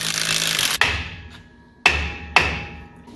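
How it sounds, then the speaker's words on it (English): Three sharp metallic hammer strikes ring out at uneven intervals, each with a decaying ring, while bushings are driven out of a truck rear end, a Toyota Tacoma axle during a custom build. "Give me a hammer."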